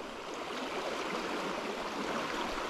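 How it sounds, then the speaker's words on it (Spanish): Fast, strongly flowing river water on a trout fishing stream rushes in a steady, dense, full-band roar, continuous and close with no talk. "Bueno, pues ya estamos en el río, chicos. Baja muy fuerte"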